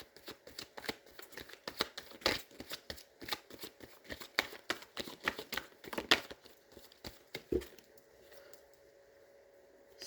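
Tarot cards are shuffled and drawn close up in a long run of quick, crisp riffling flutters and slaps that stop near the end, leaving a quiet pause. Nobody speaks.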